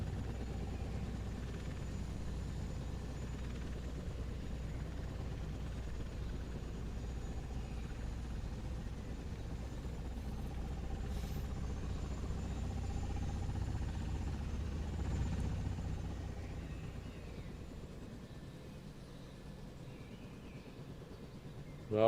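Blackhawk helicopter in a flight video game on an air-tattoo display: a steady low rotor and engine drone, even and moderately loud throughout, alone with no talk.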